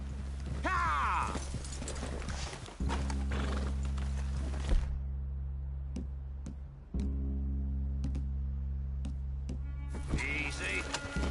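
Horse hooves clip-clop steadily at close range in Red Dead Redemption 2 while horses whinny and snort several times, over a low constant rumble.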